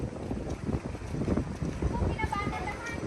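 Gusty wind buffeting the microphone in rumbling bursts at a beach resort in Lobo, Batangas, with a boat-like wash and faint voices underneath.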